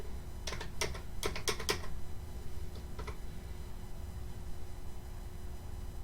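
Short bursts of clicks from number keys typed on a computer keyboard, about five quick taps and then two more, close and quiet over a faint room hiss.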